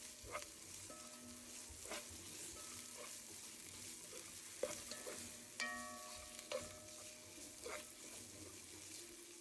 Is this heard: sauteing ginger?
yes